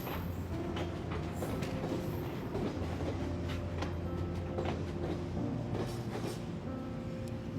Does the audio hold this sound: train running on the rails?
yes